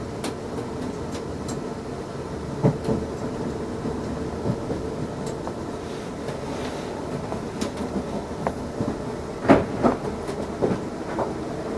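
Silverlink County train running on rails in the UK, heard from inside: a constant rolling rumble with irregular clicks and clacks over the joints, no voices.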